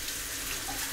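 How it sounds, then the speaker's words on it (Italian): Hot water runs from a tap to wet a shaving brush, a steady close splashing stream that carries on unbroken for the whole second with no voices. "Un po' di acqua calda, andiamo a bagnare il pennello"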